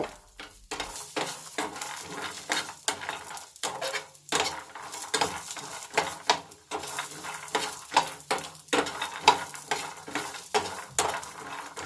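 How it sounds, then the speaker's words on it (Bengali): Peanuts roast over very low heat on a griddle pan with busy rattling and scraping as they are stirred, making an uneven clatter of taps and rustles throughout. "খুব অল্প তাপ দিয়ে বাদামগুলিকে বেশ সুন্দর করে ভেজে নেব"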